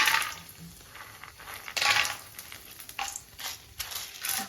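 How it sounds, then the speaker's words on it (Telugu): Peanuts frying in hot oil on low heat in a pan, a steady close sizzle with bursts of crackle and stirring scrapes, no talking. "ఆయిల్ హీట్ ఎక్కిందండి కొంచెం సిమ్లో పెట్టేసుకొని ముందు పల్లీలు వేసుకుని"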